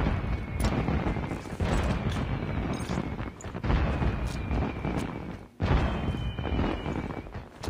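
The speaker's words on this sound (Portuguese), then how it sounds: "E dá-lhe fogos, hein." Fireworks go off in a steady run of booming, crackling bursts during a Call of Duty Mobile event, moderately loud, with a few sharper pops standing out.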